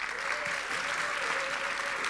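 A graduation audience applauds for a speaker seated in the front row, steady continuous clapping filling the whole moment at moderate loudness, with no voices over it.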